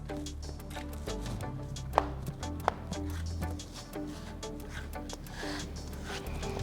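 Knife strokes chop cabbage on a cutting board for a honey mustard salad in a steady, rapid rhythm of close, crisp taps, with two sharper knocks standing out partway through.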